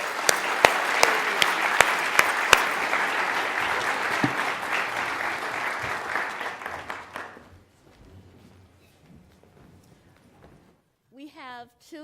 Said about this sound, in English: please join me in giving our three speakers a round of applause